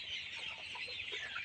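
Colored broiler chickens cluck on a poultry farm, with soft, overlapping clucks and murmurs repeating through a short stretch at moderate distance.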